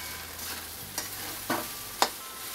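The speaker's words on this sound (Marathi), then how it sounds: "आता हे चांगलं मी हलवून घेते।" Leftover cooked rice is stirred in a pan, a soft constant sizzle broken by three or four sharp spoon scrapes and taps against the metal, close by and with no voices.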